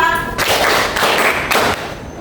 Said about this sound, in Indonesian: Tepuk 1, tepuk 2, 3, 4.